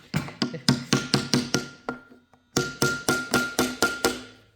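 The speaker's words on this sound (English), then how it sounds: "Just little light taps and it'll pop right off." Light hammer taps knocking a tapered mirror button off a Porsche Carrera windshield, about a dozen sharp, evenly spaced close knocks in two bursts with a brief pause between.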